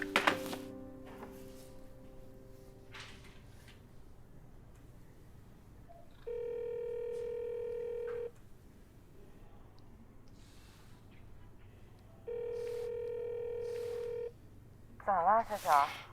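A mobile phone call: dialing tones at the start, then two long, steady ringback tones a few seconds apart over faint background hiss, with a brief voice at the very end.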